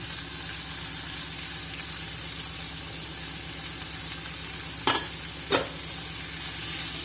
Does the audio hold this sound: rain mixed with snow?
no